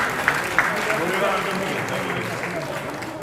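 Applause from a church assembly crowd during a meeting's report session, a steady wash of clapping running through the whole stretch at moderate volume, with a couple of sharper claps standing out near the start.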